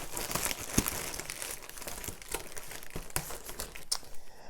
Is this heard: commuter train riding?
no